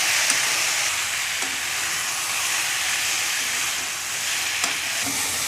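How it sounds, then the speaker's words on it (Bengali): Potato and Malabar spinach sautéing in a pan with turmeric, giving a steady broadband sizzle and hiss with a few faint scrapes of stirring, close and even throughout. "ঢাকাটা খুলে আলু পুঁইশাকটাকে ভালো করে কষে নেব"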